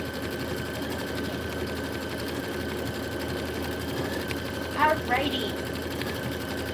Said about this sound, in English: Satin stitch is going to go super fast on these machines